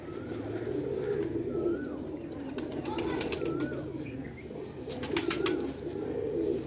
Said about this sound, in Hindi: ये कबूतरों का रामपुरी होगा इनका।